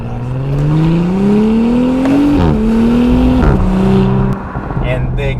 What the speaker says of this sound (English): do a 0 to 60 test in the 2018 B9 SQ5